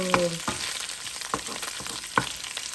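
Pork adobo fries in its own rendered fat and oil with a constant close sizzle, broken by a few sharp scraping knocks from stirring, with no voices.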